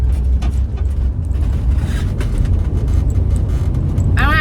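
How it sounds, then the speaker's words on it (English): Road traffic heard from inside a van in the early morning: a steady low engine and road rumble runs throughout, with a brief higher squeal near the end. "I'm already triggered by this traffic."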